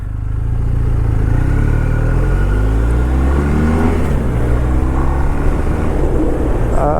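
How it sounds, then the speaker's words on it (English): Stock exhaust of a motorcycle being ridden around an island roadway, a steady loud engine drone with rising and falling pitch as it accelerates and shifts, continuous throughout with no talk. "I like the exhaust sound."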